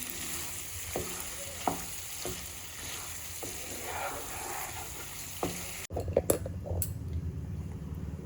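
Mutton pieces frying slowly in a pan for Bengali mutton kosha, a steady close sizzle with occasional stirring scrapes, turning louder and busier near the end as the pan is handled.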